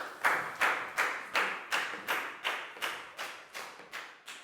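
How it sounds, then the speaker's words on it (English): Classroom applause for a student, heard as a steady run of about a dozen evenly spaced claps, close and fairly loud, with no talk over them. "High five and big round of applause for Net"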